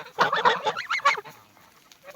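Geese honk close by in a quick burst of loud, nasal calls that tail off into softer, scattered honks.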